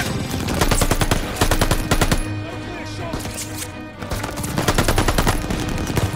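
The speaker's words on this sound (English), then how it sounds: "Was that a 50 cal?" Heavy machine gun fire in the Call of Duty: Vanguard video game, a .50 cal firing long loud rapid bursts with a short lull midway, dense and close amid battle noise.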